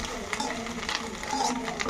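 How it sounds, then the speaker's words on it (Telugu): Egg curry being stirred in a pan on a stove that has just been switched off, with a soft continuous scraping and faint sizzle close by for a brief moment. "ఒకసారి ఇలా కలిపేసుకొని"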